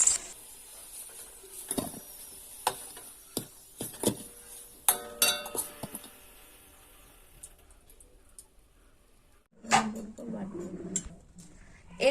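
Fried potatoes being moved onto a plate in a home kitchen, with a series of sharp clinks and taps of utensil on dish, scattered irregularly and then pausing before louder clatter resumes.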